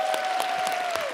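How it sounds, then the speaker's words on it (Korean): Church audience clapping for a singer at a special performance, a short dense burst of applause with a sustained tone running underneath. "박수 주세요"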